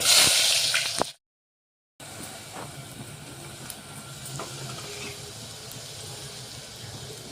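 Finely chopped onions fry with star anise and cinnamon in a pan, a steady soft sizzle and hiss running alone after a brief louder burst and a moment of silence.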